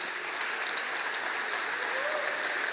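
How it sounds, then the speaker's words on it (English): A conference keynote audience applauds the volunteers, a steady, continuous wash of many hands clapping that holds at an even loudness throughout, with no talk over it. "So please give me also a round of applause for all the volunteers."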